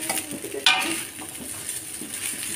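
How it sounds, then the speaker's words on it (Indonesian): Simple Indonesian nasi goreng (fried rice) being stirred in a hot pan: soft scraping and shuffling with a light sizzle, plus a brief sharper scrape near the start, all fairly close with no talking. "Diaduk-aduk guys."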